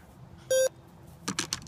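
Short electronic tone from a remote e-collar during dog training, a single steady beep with harmonics lasting about a fifth of a second, followed by a few soft clicks and taps nearby.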